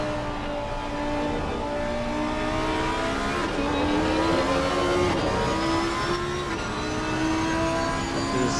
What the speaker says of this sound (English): We'll ride on board with Pickle in the Lamborghini